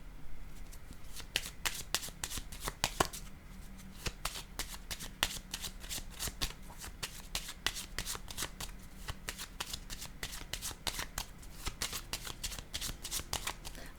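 Playing cards shuffled and drawn over and over in a fast, even stream of crisp riffling flicks, close and steady throughout with no talk.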